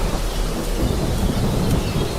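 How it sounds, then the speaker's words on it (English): Thunder in the Minecraft video game, a loud, continuous low rumble that rolls on steadily without any speech. "I did not realize just how loud the thunder could get in the game"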